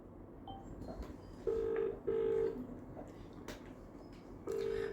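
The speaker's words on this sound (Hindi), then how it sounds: "तो आइए अभी हम उनको फ़ोन लगाते हैं" Phone call being placed: a few short steady telephone tones, two close together and one later, sound over a quiet room with faint background noise and no speech.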